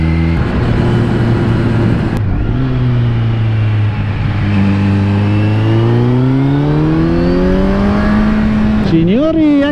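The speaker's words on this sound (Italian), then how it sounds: "Attenzione, l'Audi è partita, lanciatissima l'Audi." An Audi accelerates hard away on the Sella Chianzutan circuit, its engine loud and near, the pitch dipping and then climbing steadily through the revs, with a voice talking over it.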